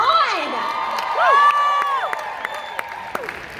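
An event crowd cheering and whooping, with high shouts and clapping that start loud and then thin out into scattered claps.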